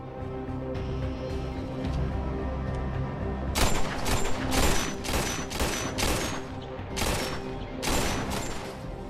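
Gunfire from target shooting in a quiet, isolated spot in an action film: after a low ambient stretch, a run of loud, rapid bursts of shots repeats several times, with short pauses between volleys.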